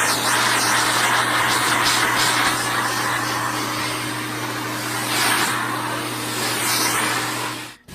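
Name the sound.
vacuum cleaner running over a tabletop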